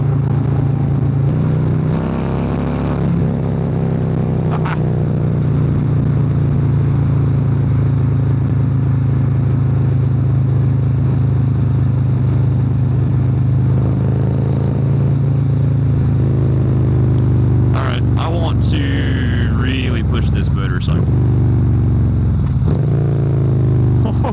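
A Harley-Davidson Road Glide Special with the 131 engine, ridden at highway speed, gives a loud continuous low V-twin drone. Its pitch shifts slightly, wind buffeting comes through, and a few clacks and rattles appear near the end.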